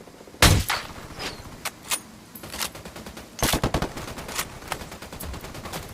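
Gunfire erupts in the tactical shooter game Ghost Recon Wildlands, a loud close blast followed by scattered single shots and a dense mid-clip burst of rapid fire, then more sporadic shots tapering off.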